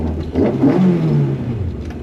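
A Ford Mark II Escort engine revs in a steady mid-pitched drone that swells and holds, loud and close, with no talk.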